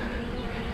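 Steady, dense buzzing from many honey bees at a hive, a continuous low drone close to the microphone with no voices.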